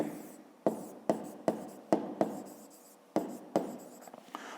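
Pen or marker strokes on paper or a board while writing a maths formula for a fifth-grade volume exercise, a series of sharp taps and scratchy strokes in an irregular rhythm, close and fairly quiet with no talking.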